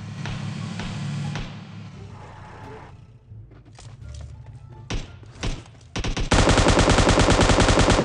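Bursts of rapid gunfire and scattered shots in PUBG Mobile on the Sanhok map, building to a loud, sustained automatic volley near the end.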